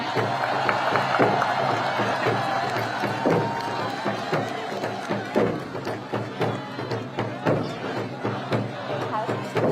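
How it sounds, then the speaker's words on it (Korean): Outdoor campaign rally crowd in Seoul applauding a child's drawing, with sustained clapping and cheers, scattered thumps and children's shouts, while a voice talks over the noise. "여러분 다시 한번 큰 박수 부탁드리겠습니다"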